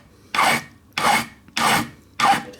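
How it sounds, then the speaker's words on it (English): A small hand file rasps across metal on a Fender Telecaster guitar neck in four even back-and-forth strokes, each a close, scratchy burst separated by short silences. "What's left sticking out, I'm taking most off with a little file."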